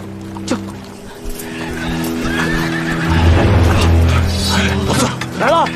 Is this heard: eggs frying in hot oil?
no